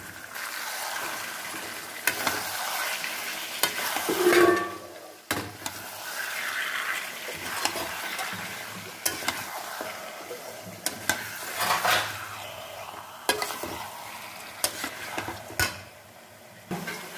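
Yogurt-marinated meat cooks in a kadai with a faint, low sizzle, broken by a string of sharp utensil taps and scrapes against the pan, with a brief clatter near the start and no speech.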